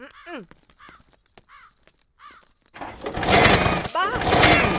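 Crows caw sharply several times in a quiet setting before an old, battered scooter engine bursts into loud, harsh, rattling noise that keeps going to the end, with one more caw cutting through it.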